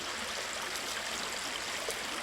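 A cold-water waterfall spills into the Ghaggar river, making a steady, even rush of splashing water with no pauses.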